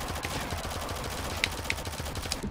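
Shotgun and rocket fire in a Shadowgun Legends 1v1 PvP duel, with rapid pulsing shots and a few sharper blasts standing out over steady game noise, and no voices.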